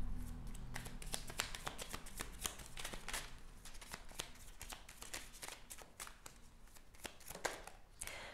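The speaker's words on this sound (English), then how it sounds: "We're gonna pull some romance cards for you" Tarot cards being shuffled by hand, a steady run of crisp riffling flicks and soft slaps lasting several seconds, close and fairly quiet with no talking.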